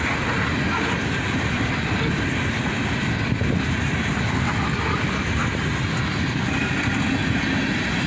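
A CSX manifest freight train with tank cars rolls past on a gloomy, snowy day, a continuous loud rumble with rhythmic wheel clatter over rail joints, close and steady throughout.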